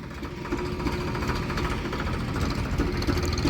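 A low, steady tractor engine rumble idling continuously with a throbbing, knocking rhythm, close by and fairly loud, no talking.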